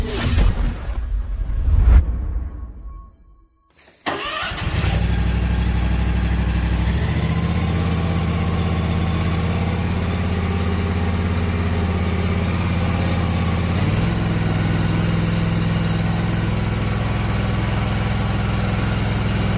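A Toro Z-Master 2000HDX zero-turn mower engine starts after a brief pause and then runs steadily with a loud, low droning rumble, close by and continuous, with no voices over it.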